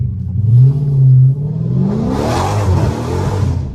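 A Dodge SRT car revving hard while sliding through a neighbourhood street: a deep, close engine roar that climbs in pitch and swells into a rough, loud howl with tyre noise.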